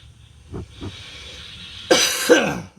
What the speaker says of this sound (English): Sorry, I'm coughing in you guys' face.